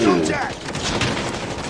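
Bursts of gunfire crackle through a dense, noisy game soundscape, sharp shots overlapping with rumbling background effects and a voice under it.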